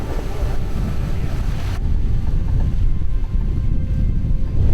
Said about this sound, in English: So we sail in here and through this really narrow channel.